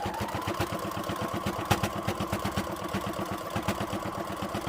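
A sewing machine stitches fleece fabric with a steady, fast mechanical chatter of needle strokes, close up and continuous, with a slight hitch partway through.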